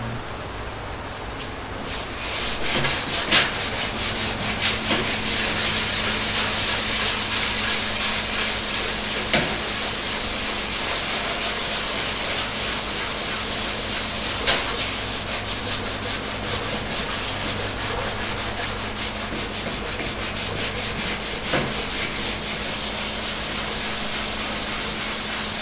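Sandpaper rubbed by hand over a painted, primed surface being prepared with Bondo, a steady close scratchy rasp running continuously with faint periodic strokes and no talking.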